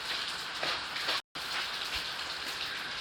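Steady outdoor rain patters on surfaces in a constant, even hiss, with a short silent gap partway through and no voices.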